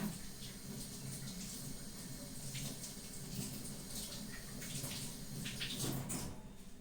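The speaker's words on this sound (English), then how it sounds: "I'm going to wash my hands because they are super sticky." Tap water runs steadily into a sink while sticky hands are washed, a faint continuous splash with small clatters and no voices.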